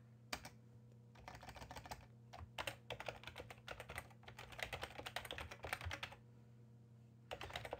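Fingers type on a computer keyboard in quick irregular bursts of close, soft key clicks separated by short pauses.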